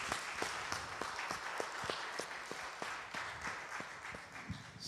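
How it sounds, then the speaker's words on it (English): An audience at a talk on culture and politics claps hands together in a steady, even rhythm, many sharp claps close together and fairly loud, with no voices over them. "let's clap our hands one more time"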